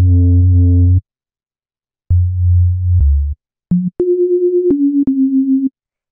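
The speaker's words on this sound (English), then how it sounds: "You can hear it's just two sine waves," Two detuned sine wave synth tones sound in short segments, a low steady hum followed by higher held pitches that waver slightly, with brief silences between.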